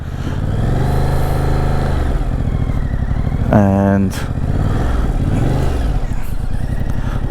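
A 2024 Yamaha Tracer 7 motorcycle engine idles and rumbles at low revs during slow manoeuvres around a drain, with a brief rev in the middle, under a rider's continuous close talking.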